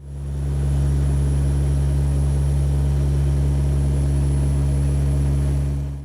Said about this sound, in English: on this pretty rare Chinese-built aircraft.